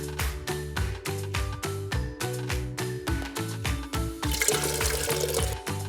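Tea pours from a kettle into a cup in a children's cartoon. A short, splashy liquid rush comes near the end over bouncy, rhythmic music.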